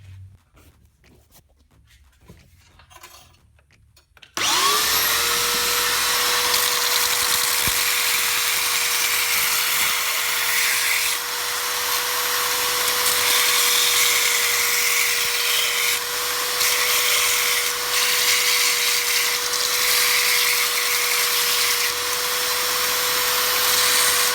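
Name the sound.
belt sander grinding a bushcraft knife blade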